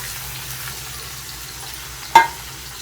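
Drumstick pieces and tomato cooking in a pan with curry leaves, a quiet steady frying hiss with faint stirring, broken by one brief sharp clink near the end.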